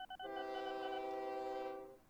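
A train horn sounds in the OpenTTD railway simulation game, one steady, clear blast of about two seconds that fades out at the end.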